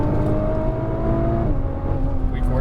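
Nissan GT-R engine pulls hard under throttle with a steady, loud sustained drone and rising harmonic tone, continuous throughout while cornering on a track.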